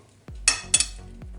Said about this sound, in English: Let's put the rest of our eggs.